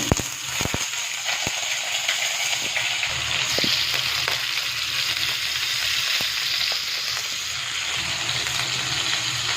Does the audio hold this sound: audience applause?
no